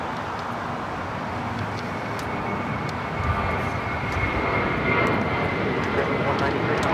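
A plane takes off at LAX with a steady, broad engine roar that swells slightly midway and holds loud throughout, with voices talking alongside.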